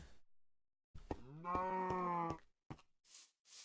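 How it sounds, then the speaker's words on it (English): Cows in the video game Minecraft moo nearby, one long clear moo followed by shorter lowing calls, with quiet gaps between. "Here are the cows mooing."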